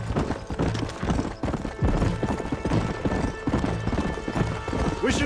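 Horses gallop in the video game Red Dead Redemption, a busy layer of hoof clip-clops with occasional whinnies, loud and close, with a voice speaking over the riding.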